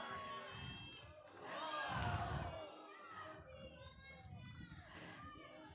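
A crowd of spectators, many of them children, shouts and cheers for climbers at a lead climbing final in an indoor gym in Edmonton, with voices swelling loudly in the middle and excited calls throughout.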